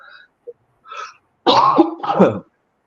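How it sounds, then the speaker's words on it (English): A man coughs up close, a couple of faint throat sounds followed by two strong, harsh coughs in quick succession, then silence. "Coughing."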